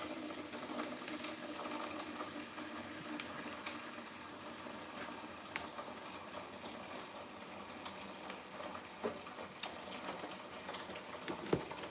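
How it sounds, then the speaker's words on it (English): Tap water running steadily into a bucket or sink in a home kitchen, a continuous hiss with occasional small splashes and clinks, moderately close and heard alone. "I got to fill up this water and such."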